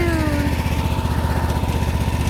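A riding lawn mower engine runs steadily and loudly out in an open field, with a dense, even drone and rapid low pulsing that continues unbroken throughout.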